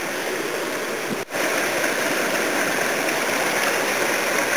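A creek flows steadily nearby, a dense continuous rush and gurgle of running water with one brief dip near the start, no voices over it.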